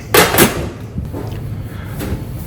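A lid is shut over a container of smoking charcoal doused with cooking oil, with two sharp knocks at the start followed by softer clunks and a faint rattle.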